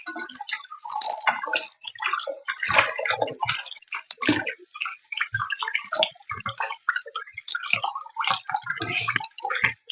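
Whole fish being washed by hand in a basin of water before frying, with irregular splashing, dripping and sloshing close by, no talking.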